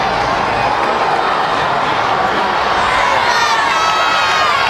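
Dense, steady roar of a huge crowd of fans at a 5A state championship high school football game in the Superdome, a continuous loud wash of cheering and shouting with no breaks.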